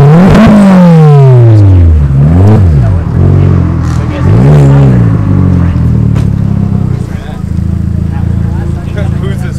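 A Honda car engine revs loudly and close, repeatedly climbing and dropping in pitch in several sharp bursts before settling into a sustained roar, with people talking over it.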